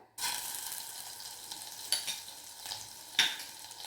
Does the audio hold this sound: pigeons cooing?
no